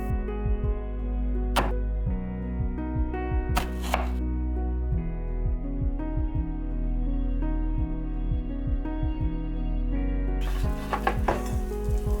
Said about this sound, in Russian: За это время полукольцами нарезаю лук.